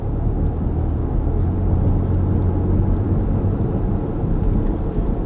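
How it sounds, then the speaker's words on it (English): Steady low tread growl and road roar from 35-inch tires fill the cabin of a stock Ford Ranger Raptor at speed, a continuous even rumble with no talk. "Aside from the tread growl, this is a very quiet tire."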